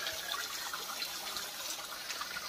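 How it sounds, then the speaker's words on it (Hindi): Small hillside waterfall near a temple at Siddha Math in Keonjhar, Odisha, giving a steady, close rush of falling and splashing water with no voices over it. "ये हूँ पहाड़ उपर आसुची झरणा छोट झरणाटी सबु बेले पानी आसी थाए एठारे।"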